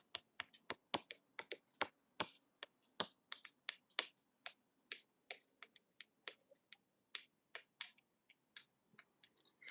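Rapid finger snaps tapping out a rhythmic beat, sharp close dry clicks in an irregular groove, some doubled, with no talking.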